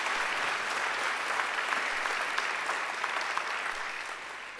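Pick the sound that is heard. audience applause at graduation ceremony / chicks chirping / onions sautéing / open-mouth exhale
audience applause at graduation ceremony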